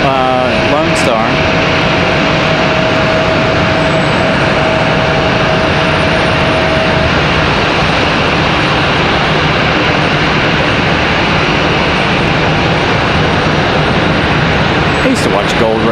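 A Lone Star Longhorn livery airliner in from Atlanta roars loudly and steadily nearby, its engine noise constant throughout.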